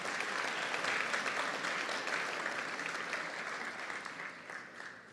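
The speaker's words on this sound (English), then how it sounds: "give the elementary school students a big round of applause for being awesome" An audience applauds elementary school students at a computer science education launch event, with sustained, dense clapping that slowly tapers off over several seconds.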